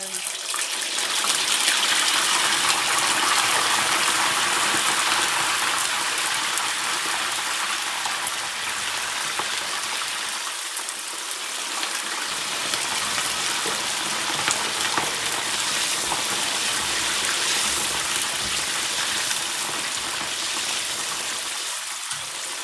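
Fava beans fry in a pot of hot oil, giving a loud, continuous bubbling sizzle that crackles and hisses steadily throughout, with no voices.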